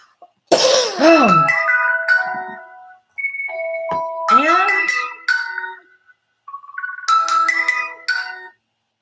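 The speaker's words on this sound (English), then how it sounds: "my phone just keeps ringing and ringing and ringing with spam" A phone ringtone sounds in three separate bursts of bright electronic melody, separated by short silences, with a cough or throat-clearing near the start.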